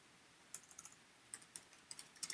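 Quiet keystrokes on a computer keyboard, a few irregular bursts of typing with short pauses between, close and soft, no voices.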